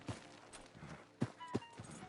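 A horse's hooves clip-clop in Red Dead Redemption 2, a few uneven thuds spaced across a couple of seconds, fairly quiet and close, with no one speaking.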